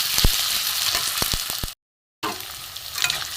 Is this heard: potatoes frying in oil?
yes